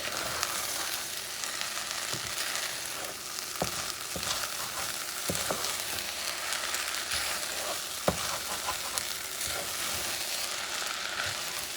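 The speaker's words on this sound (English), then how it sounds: "So what you're going to do now is you're going to stir this baby" Squid ink rice cooks in a pan and is stirred, producing a dense, steady sizzle with occasional scraping strokes and soft knocks, heard up close with no talking.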